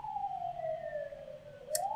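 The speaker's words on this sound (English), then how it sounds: "See, there's my siren. I knew we were going to get at least one." An emergency vehicle siren wails outside, a single falling tone that sweeps back up near the end, heard faintly through walls over quiet room hum.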